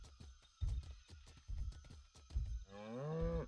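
A cow moos once, a drawn-out low call near the end, after a run of soft rhythmic thumps and a faint steady tone.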